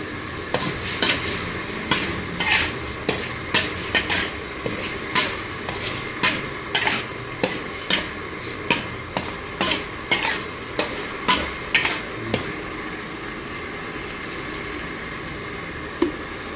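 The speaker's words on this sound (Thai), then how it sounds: "ใส่พริกแกงเผ็ดนะครับ แล้วก็ใส่หมูลงไปแล้วก็น้ำครับ" Pork, red curry paste and water stirred in a pan over high heat, a regular rhythm of scraping utensil strokes against the pan about twice per second, loud and close over a sizzling, bubbling bed.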